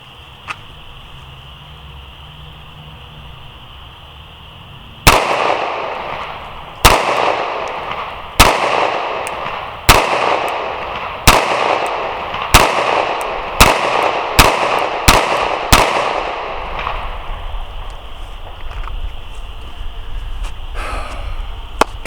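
A Sig P365 pistol fires at targets 10 yards away, about a dozen sharp, loud shots that start in a slow, steady rhythm and then come faster, each ringing briefly against a quiet outdoor background.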